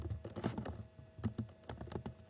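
Close, quiet tapping on a computer keyboard in quick uneven bursts with a short pause, and no one speaking.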